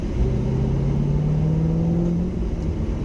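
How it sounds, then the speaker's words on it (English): A Corvette C6 Z06 with its 7.0-liter LS7 pushrod V8 gets a quick stab of the throttle, a loud, close, deep engine rumble whose pitch climbs and settles within about three seconds, with no talking. "This thing just makes a ton of torque. Like, let me just stab the throttle here."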